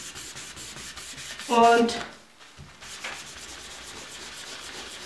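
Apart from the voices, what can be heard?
rubbing a card with kitchen paper towel to polish it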